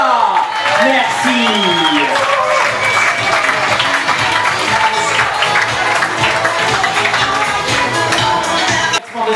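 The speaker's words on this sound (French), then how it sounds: "On peut les applaudir plus fort que ça s'il vous plaît" Sustained audience applause and cheering at a fashion runway show in Barca, loud and dense crowd clapping throughout, with a voice over a loudspeaker briefly audible at the start.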